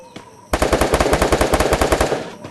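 Thompson submachine gun firing in a battle royale video game, a rapid, evenly spaced burst of sharp shots lasting about two seconds after a single lone shot, loud and close with no voices.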